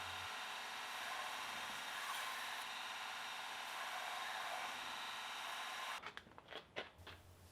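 A 48-inch belt grinder running with a 40 grit belt in a knife-forging shop, a steady whirring hiss that holds for about six seconds before cutting out into a few scattered clunks and rattles.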